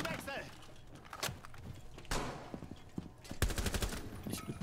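Video game gunfire rattles in rapid bursts and sharp single shots, loud and close, alongside scattered clanks, while people talk over it.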